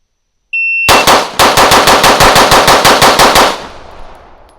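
A rapid string of about fifteen loud, close gunshots fired in quick even succession at a shooting range after a short electronic shot timer beep, ending in a fading echo.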